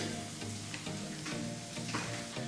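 Olive oil sizzling steadily in a hot pan on the stove, a continuous close hiss that carries on with no voices over it.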